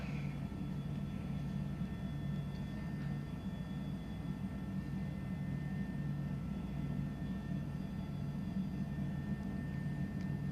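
An H145 helicopter in MSFS 2020 descends to settle on a helipad near Sydney, Australia, giving a steady low droning rotor and engine hum with a faint high whine, continuous and even with no talking.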